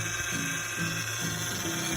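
A car's power steering, low on fluid, gives off a continuous whining, grinding mechanical drone with a fluttering low rumble, steady and fairly loud with no talking.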